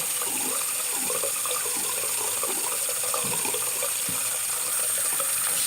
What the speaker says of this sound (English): dip it under the water. I'm going to squeeze some of that water out.